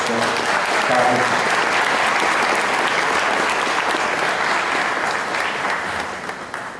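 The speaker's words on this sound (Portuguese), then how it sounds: "Merece uma salva de palmas, professor Carlos" An audience at a literary academy awards event applauds Professor Carlos after a major literature prize: steady, dense clapping throughout, tapering slightly at the end, with no talk.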